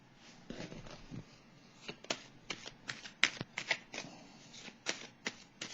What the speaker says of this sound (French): Je vais piger une carte sur l'équilibre à l'envers encore, par curiosité.